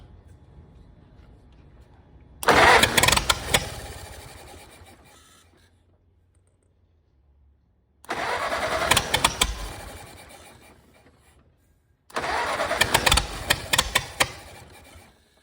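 Ford Model T engine running rich fires up in three separate bursts of loud, rattling, uneven running, each dying away into quiet gaps between attempts.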